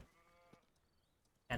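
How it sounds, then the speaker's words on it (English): A short, faint bleat of a sheep in the video game Hogwarts Legacy, thin and wavering, followed by a sudden loud burst of noise at the end. "Sheep?"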